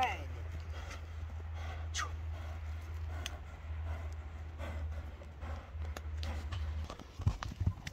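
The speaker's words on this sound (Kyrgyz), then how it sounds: "Туугандар, экинчи ат келди." A horse is led along outdoors, its hooves giving scattered clip-clop steps and a snort amid a constant low rumble, while people talk over it nearby.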